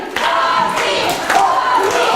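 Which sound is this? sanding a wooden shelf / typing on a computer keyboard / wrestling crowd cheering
wrestling crowd cheering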